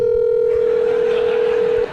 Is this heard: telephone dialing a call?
yes